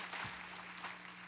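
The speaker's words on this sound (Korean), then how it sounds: "박수로 환영하도록 하겠습니다" At a Sunday worship service a church congregation gives a short, quiet round of applause to welcome a new member, a soft scattered patter heard at a distance over a low steady hum.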